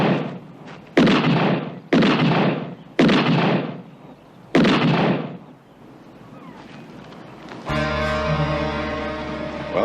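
Loud gunshots ring out in a crime drama, four sharp reports in quick succession followed by a fifth after a pause, each with a decaying echo, then a music sting rises.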